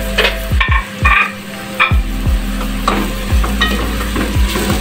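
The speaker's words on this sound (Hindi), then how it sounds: "ज़ीरा, लौंगे, काली मिर्च, बड़ी इलायची, दालचीनी और इसको अच्छे से मिक्स करेंगे।" Whole cumin, cloves, black pepper, black cardamom and cinnamon stirred with onions in a hot pan for aloo keema, a spoon scraping in repeated strokes over a steady close sizzle, with no talking.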